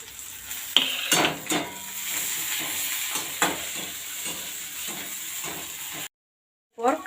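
Chopped garlic frying in oil alongside lightly browned onions for mustard hilsa, a close, crackling sizzle with scraping stirs and soft clinks of the utensil against the pan, steady until an abrupt silence near the end.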